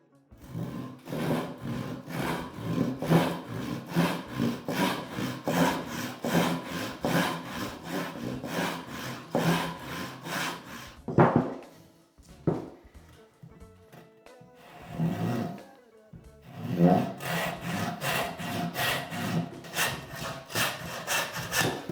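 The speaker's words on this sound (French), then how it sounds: "je vais utiliser une scie manuelle" A hand saw cuts through driftwood in steady back-and-forth strokes, pausing briefly midway before the rhythmic rasping resumes, close up.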